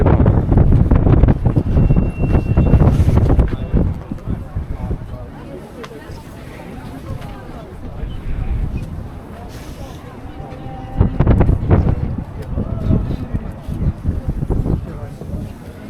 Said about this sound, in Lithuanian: Vėjas stiprus